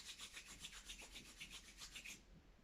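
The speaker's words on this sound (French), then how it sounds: "Frotte les mains avant de poser les mains sur les reins." Hands rubbed briskly together in a quiet room before being placed on the lower back, a steady run of about ten soft, dry swishing strokes that stops abruptly near the end.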